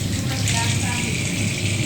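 Plastic cards being washed by hand in soapy water, a steady close splashing and running-water wash that continues without a break and stays loud throughout, with no voices over it.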